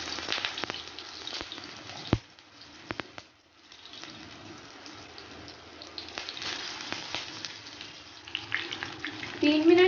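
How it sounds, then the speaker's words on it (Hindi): Aloo chapli kababs fry in hot oil in a pan over a medium flame, giving a continuous close crackling sizzle with scattered sharp pops. "3 मिनट एक साइड से फ्राई करेंगे और 3 मिनट एक साइड से। मीडियम फ्लेम पे ना इन्हें फ्राई करना है।"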